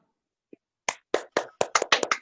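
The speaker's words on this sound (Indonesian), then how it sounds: "tepuk tangan anak-anak" Children clap their hands during a Zoom class meeting. A small tap comes first, then a growing burst of about eight to ten sharp, close claps at a quickening, uneven rhythm, with no talk.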